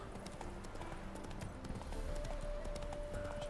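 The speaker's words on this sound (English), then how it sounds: "It's a horse." Horse hooves clip-clop at a steady trot in The Witcher 3, a continuous rhythmic beat under faint game ambience and a low musical tone.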